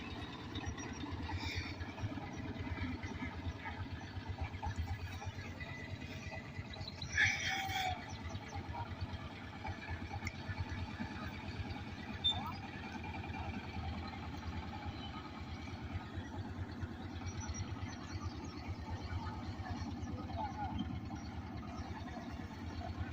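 A ferry boat's engine on a village river drones steadily and low as the boat crosses toward the far landing. The hum is continuous and moderately distant, with no voices.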